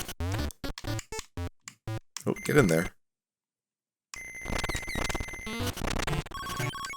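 Chiptune effects from the Wario Land II video game: a rapid series of short electronic blips and a rising squeal, a pause of silence, then a dense tonal ringing and jangling, with a voice talking briefly over it.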